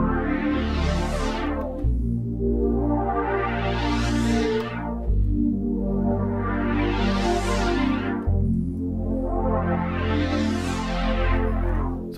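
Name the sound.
synth patch with vintage digital effects, Arturia Pigments 3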